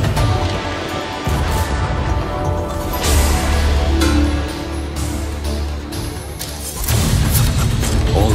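Fireworks going off during the Lunar New Year event in the video game Overwatch, a steady run of loud booms, crashes and crackling bursts, with heavier thumps returning near the end.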